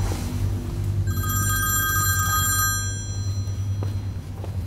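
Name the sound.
telephone ringing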